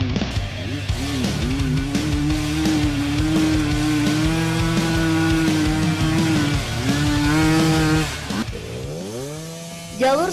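A trail motorcycle engine revs steadily and loudly while riding over rough, heavy terrain in the Sumedang countryside, its pitch rising and falling with throttle before easing off near the end.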